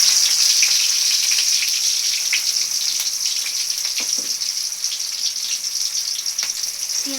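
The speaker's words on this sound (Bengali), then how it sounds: "পেঁয়াজটা একটু লাল লাল করে ভেজে নেব" Sliced onions frying in hot oil in a wok give a bright, continuous sizzle, close and steady, with a few faint spoon or utensil clinks near the end and no talking.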